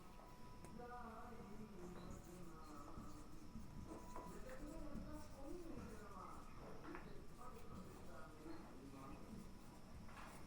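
Chalk or marker writing on a classroom board, a steady scratchy rubbing under a teacher's continuous talk in a lecture on DNA and nucleotides.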